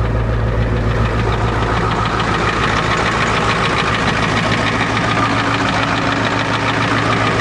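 An old, heavily rusted Ford truck with about 402,000 kilometres on it idles steadily, a loud, close, unbroken engine rumble with a rough, knocking texture.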